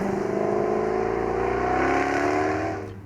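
Jaguar XKR-S engine revving under acceleration while driving on the road, a steady loud rising engine note with whine heard from inside the car, easing off at the end.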